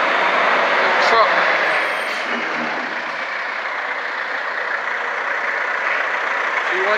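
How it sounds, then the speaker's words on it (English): A truck rumbles past close by as a broad, steady roar that swells briefly near the start, then settles into a continuous engine drone. "Sorry, y'all. The truck."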